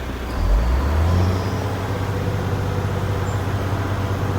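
A fire dump truck's engine revs up loudly, then settles into a steady, rumbling idle-level drone during an air brake inspection, with no talking.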